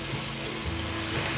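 Bitter melon and carrot stir-fry in a pan with a soft, steady sizzle and faint scraping, brief and fairly quiet.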